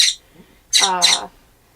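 Pet birds squawk inside their cages in an RV, one short harsh call followed by a louder, longer pair of squawks, close and with no talking.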